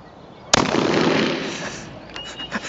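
A single sharp, loud shotgun blast cracks nearby, followed by a long, decaying echo that fades over a couple of seconds.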